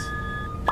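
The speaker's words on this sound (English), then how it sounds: "When you hear the beep, that's the sound of safety." A single sustained electronic beep from a vaccine advertisement holds one steady pitch for about half a second, then cuts off abruptly. It is fairly quiet and heard alone, with no talking.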